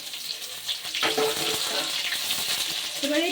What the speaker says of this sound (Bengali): এবার এই পেঁয়াজটাকে তেলের মধ্যে একটু হালকা লাল করে ভেজে নেব।